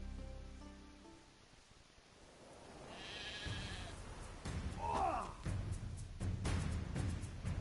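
Sheep and goats bleat and whinny in a village scene of the game The Witcher 3, a few scattered animal calls rising over ambient background noise and music, fairly close.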